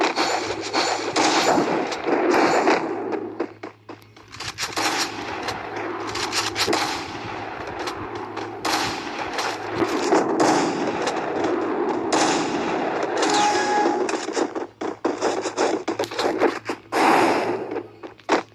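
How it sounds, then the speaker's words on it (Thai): Gunfire in the mobile shooter game Free Fire, loud and continuous with dense rapid shots and bursts layered over a low background hum, pausing briefly before resuming heavy fire. "ขออนุญาตใช้ปืนเลยแล้วกัน"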